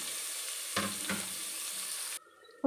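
Onions frying in a pan for poha produce a quiet, even sizzle with two short stirring scrapes, then the sound cuts off abruptly near the end.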